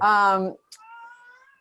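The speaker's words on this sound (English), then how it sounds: "I think I heard a cat crying" A single clear cat meow, loud and close, followed by a thin, fainter whining cry trailing off.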